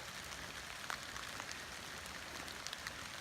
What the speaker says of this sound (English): Started raining really hard, guys.